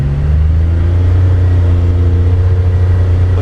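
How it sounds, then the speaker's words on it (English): A Polaris 1500 UTV cruises in comfort mode on light throttle, its engine a steady, fairly loud low rumble that rises gently in pitch as it holds a higher gear. "I'm going to drive this back in comfort just so you can hear how quiet it actually is"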